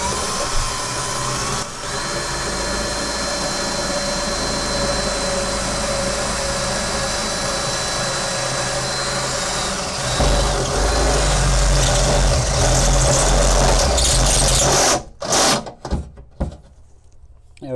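A step drill bores a 10mm hole in a Land Rover Defender TD5 storage box, a loud, steady whine that runs for about fifteen seconds before cutting through and stopping in a few short bursts.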